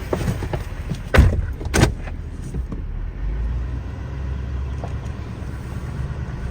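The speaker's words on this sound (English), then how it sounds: "let's hop in the truck and get it moved on over there" A pickup truck towing a trailer gives a low, steady engine rumble throughout, with a couple of door thumps early on.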